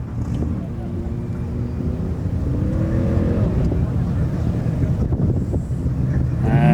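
A 1968 Camaro race car nicknamed the Village Bicycle, running an automatic transmission, drones on a track lap, its engine note rising and falling through gears with wind buffeting, while a voice talks over it.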